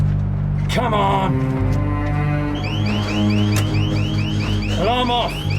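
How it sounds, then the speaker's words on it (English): A loud electronic alarm blares with a steady droning tone in a tense crime-drama scene, while rising warbling sweeps and rapid chirping pulses repeat over it and voices speak urgently. "Alarm off!"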